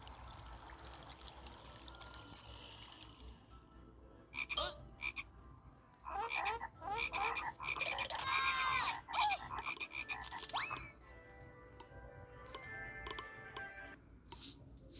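Frogs croak in dense bursts and trills, some close and loud, others fainter, with quieter gaps between choruses.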